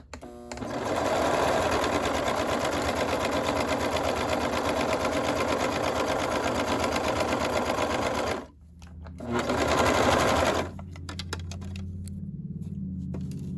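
A sewing machine stitches the side seam of a jogger top in one long, steady run of rapid needle pulses, stops briefly, fires off a short second burst, then drops to a quieter hum.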